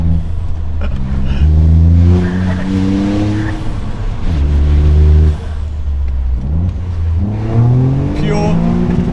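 A Toyota GR Yaris three-cylinder engine revs hard through rising gear pulls, loud and close, with a raspy exhaust note that drops between shifts and surges again.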